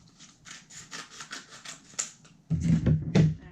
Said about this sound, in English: And then you have to burnish it really good to get this to stick on here.